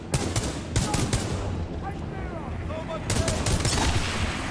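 Precision rifle fire in the video game Titanfall 2 comes through as loud, sharp shot bursts near the start and again toward the end, with a busy combat din between them.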